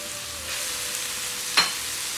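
Jackfruit and shrimp paste sautéing in a hot pan for a Filipino mung bean stew, a soft steady sizzle throughout with a brief sharper crackle near the end.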